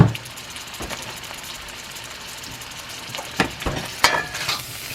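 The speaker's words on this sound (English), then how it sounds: "so I'm just going to stir fry them for a couple minutes" Shredded carrots are stir-fried in a pan for a pork stir fry, giving a steady close sizzle with scraping stirs and a few sharper clatters of the utensil near the end.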